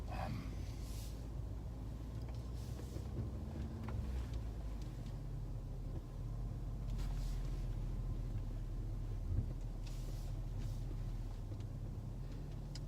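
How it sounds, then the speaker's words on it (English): A Land Rover crawling slowly over an off-road trail in low range with permanent four-wheel drive, giving a steady low engine rumble and drivetrain noise that runs continuously at a moderate level. "We need very little throttle input to make the car actually move."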